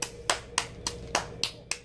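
A baby claps six times in a steady, even rhythm, each clap sharp and close.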